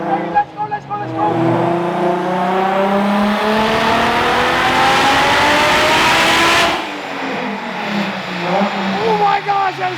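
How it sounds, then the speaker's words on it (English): Single-turbo car with a stock engine and stock ECU revving hard on a dyno, a loud rising roar that climbs steadily then cuts off sharply, followed by quieter engine rumble and a person talking. "we're gonna put this on the dyno and see single turbo, stock ECU, stock motor, what that can do"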